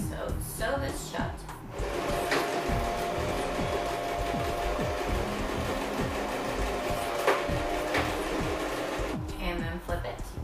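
A sewing machine stitches a fabric hair bow shut, its steady rapid needle chatter running continuously with a periodic mechanical thump throughout.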